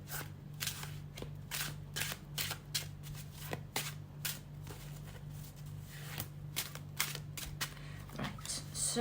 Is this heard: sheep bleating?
no